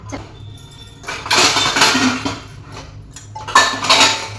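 Dishes and pots are washed and scrubbed close by, with bursts of clattering metal and scraping in uneven waves between quieter moments of running water.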